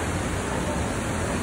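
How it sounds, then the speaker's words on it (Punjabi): Fast-flowing water pouring through canal headworks, a dense, steady roaring rush that stays loud and unbroken throughout. "ਪਾਣੀ ਦਾ ਫਲੋ ਬਾਈ ਪੂਰਾ ਤੇਜ਼ ਹੈ"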